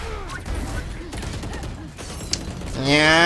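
Gunfire in the tactical shooter Valorant, with quick shots and mechanical weapon clicks scattered through the passage, half buried under someone talking, ending in a rising tonal in-game effect.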